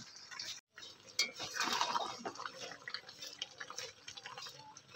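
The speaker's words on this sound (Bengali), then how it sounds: "তো এইভাবেই আমি অনবরত নাড়তে থাকবো।" Raw mango pickle with jaggery stirred continuously in a pan as the jaggery melts, giving soft wet scraping and bubbling close by, fairly quiet with no voices.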